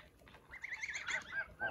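Short, close chicken calls with a honking, clucking quality, a few bursts in quick succession over a faint background.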